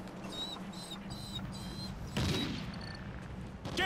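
Gunfire in the video game Call of Duty: Ghosts, a rattling burst of rapid shots over a steady background of in-game noise and tones, with a louder volley partway through.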